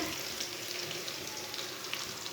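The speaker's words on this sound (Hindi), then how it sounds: "लहसुन को भी 1 मिनट तक भून लेंगे।" Chopped garlic fries in hot oil with a soft, steady crackling sizzle, fairly quiet and continuous throughout.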